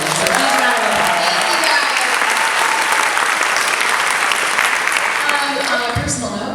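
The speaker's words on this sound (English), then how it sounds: "So huge round of applause." Loud, sustained audience applause at a young adult book festival introduction, many hands clapping steadily before easing slightly near the end, with a voice surfacing briefly.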